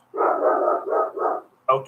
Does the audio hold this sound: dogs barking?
yes